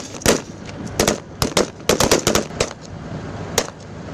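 A BMP infantry fighting vehicle fires in support during a military exercise in cold Ladakh, with sharp gunfire in irregular bursts and single reports echoing nearby, loud and without speech.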